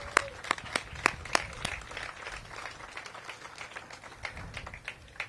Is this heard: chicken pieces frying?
no